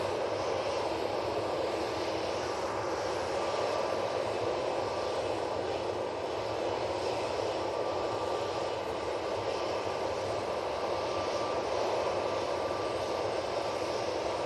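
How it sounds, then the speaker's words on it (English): A Ryanair Boeing 737-800 at Manchester Airport gives a steady, broad jet engine roar that holds at an even level for the whole stretch, with no voices over it. "Ryanair 737-800."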